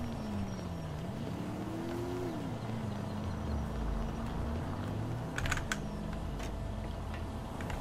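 Buzzard helicopter arriving in GTA 5 Online, a steady engine drone with a rising and falling whine as it approaches, plus a few short clicking keyboard taps near the end, without speech.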